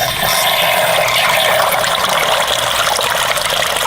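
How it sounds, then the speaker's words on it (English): Water rushes steadily through a Hudson autofill valve into a garden water feature, a loud, constant hissing gush that stays even and unbroken from start to finish. "Jay, let's turn the water on so they can see how the Hudson fill valve works."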